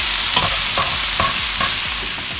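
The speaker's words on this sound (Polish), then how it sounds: "Teraz razem to jeszcze wszystko smażymy." Onion and pears sizzling in a pan while being stirred, with a scraping stroke roughly every half second over a steady frying hiss.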